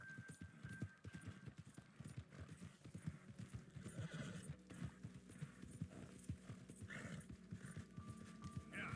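Horse hooves clip-clop steadily at close range in Red Dead Redemption 2, with a clear neigh breaking through the rhythmic galloping.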